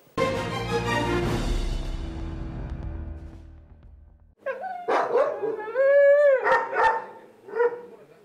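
Stray dogs in Surgut bark and howl after a fading musical sting: a cluster of yelps, drawn-out howls and sharp barks, fairly close and loud, with no speech.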